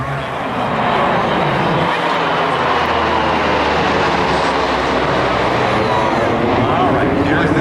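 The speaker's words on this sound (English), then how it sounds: "What an amazing aircraft." A rescue aircraft of the 106th Rescue Wing flies past during a combat search-and-rescue demonstration at the 2008 Jones Beach airshow, giving a loud, steady engine roar that holds throughout, with speech over it.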